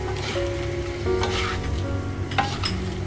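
Shrimp sizzle in a pan of olive oil and butter, a steady loud frying crackle with occasional stirring scrapes, close and without talk.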